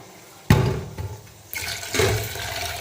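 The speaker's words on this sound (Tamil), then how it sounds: "கொஞ்சம் தண்ணி ஊற்றிடுவோம் ஊற்றிட்டு நல்லா கழுவிடலாம்" Water splashes and pours in short bursts into a vessel to rinse cooking ingredients, hot water, for a spicy anchovy dish, close and fairly loud with no talk.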